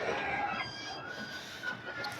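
A hen being settled to brood eggs clucks softly and intermittently in a quiet enclosure, fairly close and unhurried, with no talking over it.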